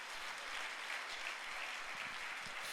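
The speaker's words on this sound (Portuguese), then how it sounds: "Dê uma salva de palmas para o Senhor." A church congregation at a Sunday service applauds, a brief, fairly faint wash of many people clapping at an even level throughout.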